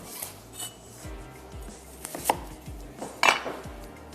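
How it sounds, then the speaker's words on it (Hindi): A knife finely slices an onion on a cutting board. It makes a handful of crisp, irregular taps and cuts, fairly quiet, with brief gaps between strokes. "और इसको हम कर लेंगे बारीक स्लाइस"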